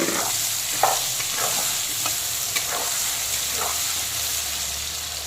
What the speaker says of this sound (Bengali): এখন মাছ ভাজার তেলেই দিয়ে দেব হলুদ মাখানো আলু, আর আলুগুলোকেও খুব সুন্দর করে লাল লাল করে ভেজে নেব